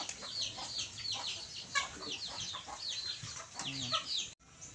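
Up close on a farm, a hen makes soft, repeated clucks near her chicks, mixed with higher chirps, in a quiet setting.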